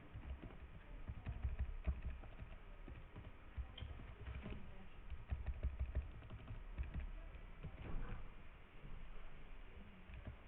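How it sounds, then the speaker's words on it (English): Steady clicking of a computer keyboard, quick irregular keystrokes tapping on and on at a low level with faint background hiss. "Don't worry about what I'm typing in."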